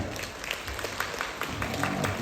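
Spectators applaud at a bullfighting contest in Uiryeong, where bulls compete in a pushing match, a soft, steady wash of distant crowd clapping with a faint murmur underneath.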